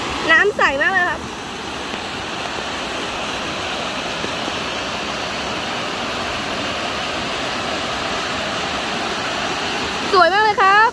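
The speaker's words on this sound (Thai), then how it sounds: "สวยมากเลยครับมีน้ำไหลลงมาข้างล่าง" Namtok Nao waterfall in Ranong, Thailand, pours in a steady broadband rush of falling water that fills the whole clip, with brief chirping or whistling sounds near the start and end.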